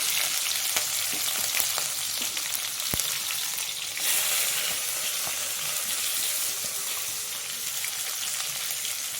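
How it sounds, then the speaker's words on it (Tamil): Finely chopped ginger and green chilli sauté in hot oil after mustard seeds for potato masala, a dense, loud crackling sizzle with a sharp tap from a utensil, close up and without talk. "இஞ்சி பச்சை மிளகாய் சேர்த்து நல்லா வதக்கிக்கணும்."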